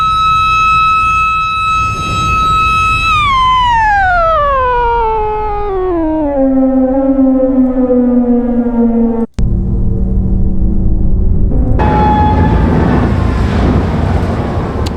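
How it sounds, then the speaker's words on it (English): A loud bridge-lift warning siren holds a steady tone, then glides down in pitch and drones low, followed by a sharp bang and a rumbling, noisy resumption. "But it's this cool sounding siren."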